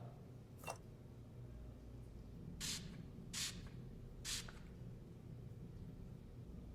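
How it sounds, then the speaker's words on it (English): Luminol sprayed onto a wall in a murder mystery video game set in the Alps: four short hissing spray bursts, one alone and then three spaced in a quick row, over a low ambient hum. "Anna, spray the wall with luminol."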